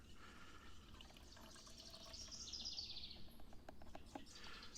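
Water pours steadily into a gallon jug with a soft, bubbling trickle that swells midway, running alone with no talk.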